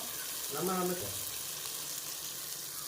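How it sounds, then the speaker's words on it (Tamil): Ingredients sautéing in a pan for Tamil-style chicken curry: a soft, low-level sizzle with a brief stirring scrape near the start, heard close and without talk. "இந்த மாதிரி நல்லா வதங்கிட்டோம்."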